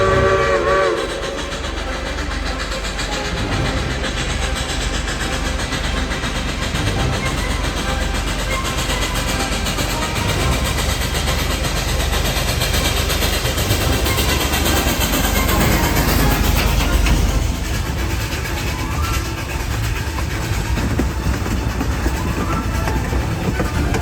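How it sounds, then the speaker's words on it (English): Denver and Rio Grande steam locomotive 476 rumbles and chugs steadily for a long stretch through a canyon above the Animas River, its whistle sounding at the start, with a broad roar echoing off the canyon walls. "The engine is chugging away, echoing off the canyon walls and 100-year-old trees."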